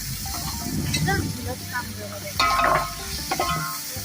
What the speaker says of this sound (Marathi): कोथिंबीर टाकणार तेलातच परतून घ्यायची कलर चांगला येतो